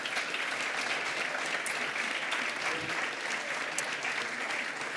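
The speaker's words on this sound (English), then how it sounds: "I would like to ask for a round of applause to our speakers" A conference audience on microfinance applauds the speakers before lunch. Dense, steady clapping from many hands fills the room at an even level throughout.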